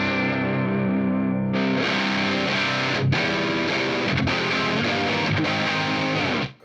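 Electric guitar played through a Fender Pugilist distortion pedal in blend mode, a loud, sustained, saturated chord that turns brighter and fuller after a fresh strum, with further picked chords, alone with no talking.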